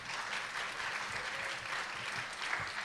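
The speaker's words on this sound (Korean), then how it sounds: "박수로 한번 환영하면서 격려하겠습니다" Congregation applause welcoming a guest pastor at a night prayer meeting in a church, a steady, dense wash of many hands clapping, moderately distant and even for a few seconds.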